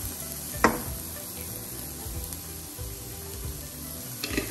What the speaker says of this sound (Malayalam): ഇങ്ങനെ മഞ്ഞൾപ്പൊടി ഇട്ടിട്ട് നന്നായിട്ടൊന്ന് ഇളക്കി കൊടുക്കാം